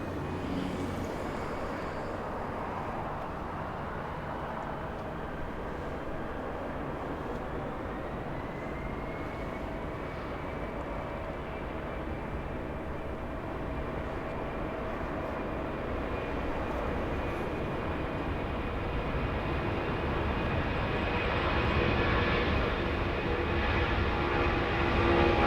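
A Boeing 747 flying as Air Force 2 thunders down the runway on its takeoff roll at LAX, a broad, steady jet roar that holds for the whole stretch and swells slightly toward the end, with no voices.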